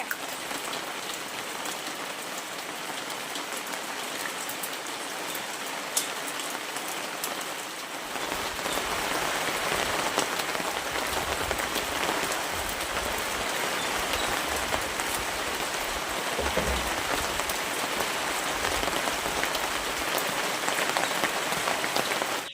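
Steady rain falls outside a home during a rainy day, a dense continuous patter on surfaces that grows heavier and fuller after the first few seconds and carries on evenly, with no talk.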